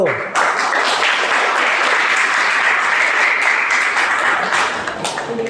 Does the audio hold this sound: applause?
yes